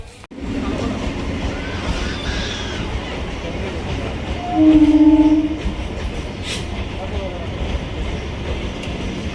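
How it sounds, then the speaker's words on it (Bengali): A Sealdah-bound commuter train pulls into a crowded railway station with a deep, continuous rumble of rolling wagons and a short horn-like tone midway. Background crowd voices mix with the noise. "এখন আসছে শিয়ালদা যাওয়ার গাড়ি, আর এই ট্রেন ধরেই আমরা এখন কলকাতায় যাব"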